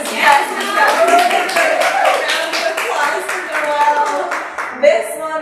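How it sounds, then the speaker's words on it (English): A small audience at a women's business networking event claps for a speaker coming on stage, sparse irregular hand claps under someone talking loudly, the clapping fading near the end. "a round of applause for Noelle"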